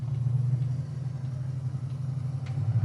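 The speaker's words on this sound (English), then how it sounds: "One of my favorite things with this car, I mean, obviously the quality, but that exhaust tone." A 1969 Oldsmobile 442 muscle car gives off a deep, steady exhaust rumble while driving, a low throbbing drone heard from inside the car with no voices.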